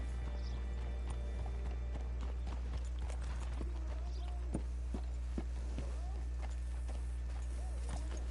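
Steady hoof clip-clops of a walking horse in Red Dead Redemption II tap along over a constant low hum and ambient background, moderately quiet and regular.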